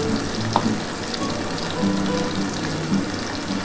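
Ginger and tomato paste sizzling loudly in a frying pan of oil for a paneer and potato curry, a dense continuous hiss heard close with occasional soft stirring knocks.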